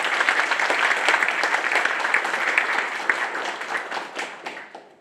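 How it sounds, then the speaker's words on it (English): A conference audience at KiCon Europe 2024 gives a warm round of dense clapping that holds strong, then gradually fades away. "please give a warm round of applause for Lukas Hartmann"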